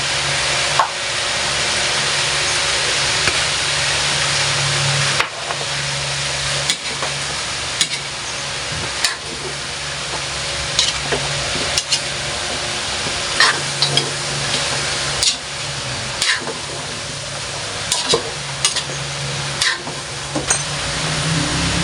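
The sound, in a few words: cauliflower frying in a pan for Filipino chopsuey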